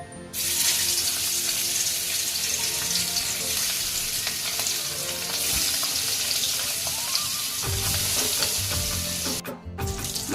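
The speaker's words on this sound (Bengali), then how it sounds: "তেলটা গরম হয়ে গেছে এবার আমি মাছগুলো ভেজে নেব" Hilsa fish frying in hot mustard oil, a dense, continuous close sizzle with crackles and scraping stir sounds throughout, a brief clatter near the end.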